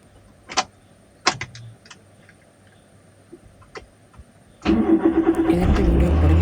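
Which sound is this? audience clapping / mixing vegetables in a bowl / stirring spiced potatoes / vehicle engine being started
vehicle engine being started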